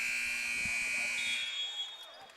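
A loud, sustained electronic buzzer sounds for about a second and a half at halftime of a high school boys basketball game, then cuts off, with crowd noise underneath.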